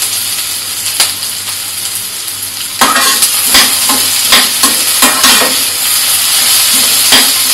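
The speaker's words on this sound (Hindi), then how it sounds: "तो ये आलू हम चलाते जा रहे हैं" Potatoes and vegetables are stirred and fried in a pan: a loud constant sizzle punctuated by repeated sharp scrapes and knocks of the spoon against the pan, coming roughly every half second to second.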